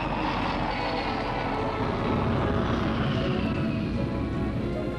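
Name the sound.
jet airliner flying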